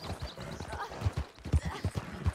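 Horse hooves clip-clopping in the video game Red Dead Redemption 2, a steady galloping rhythm of close, punchy thuds running through the whole clip, with a brief whinny-like sound mixed in.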